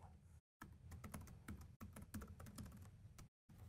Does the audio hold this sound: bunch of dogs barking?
no